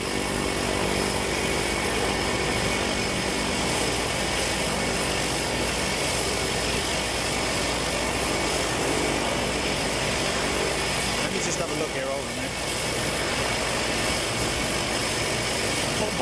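Bombardier trijet aircraft near Boeing Field, its engine and propeller-like drone steady and fairly loud across the whole stretch, with a broadband roar that dips briefly midway.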